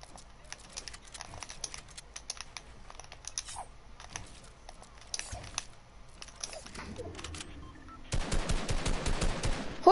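Rapid automatic gunfire from a multiplayer shooter video game, a dense burst erupting loudly near the end after a stretch of scattered shots and background clatter.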